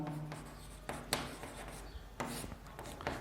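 A pen scratches steadily across paper while a maths solution on circles and tangents is written out, close and quiet, with short strokes and small taps breaking the rhythm and no talking.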